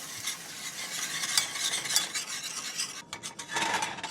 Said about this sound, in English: and then you just want to keep whisking